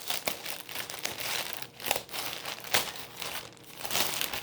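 Plastic mailer of a Shein clothing order crinkling and tearing as it is pulled open by hand, close and fairly quiet, with irregular bursts of rustling and sharper rips.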